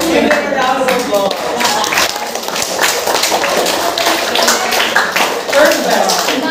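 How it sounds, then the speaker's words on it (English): Classroom round of applause after a winner is announced, with dense clapping from many hands filling the whole stretch at steady loudness, mixed with some voices. "Give it a round of applause."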